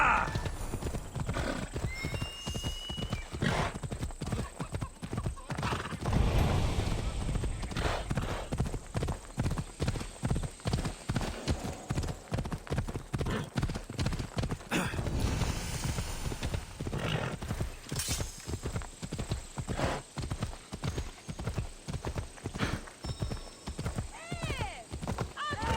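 A horse gallops with rapid, rhythmic hoofbeats in the video game Assassin's Creed Odyssey, with loud whinnies and voices shouting over the pounding.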